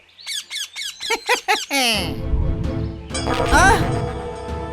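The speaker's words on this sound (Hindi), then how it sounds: "वो देखो कितने तोते। अरे वाह, इतने सारे तोते।" Cartoon parrots squawk in a quick series of sharp, high chirping calls, then a voice speaks over a bright, busy animated soundtrack.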